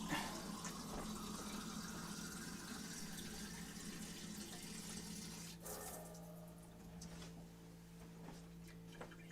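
Sink tap filling a container with water, a steady soft rushing flow under a low hum, with a clunk partway through followed by lighter splashing and faint clicks.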